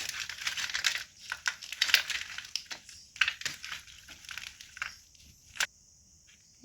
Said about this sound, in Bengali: এবার আমি ভালো করে মাছের মধ্যে লবণ, হলুদ, লঙ্কা গুঁড়ো মিশিয়ে নেব।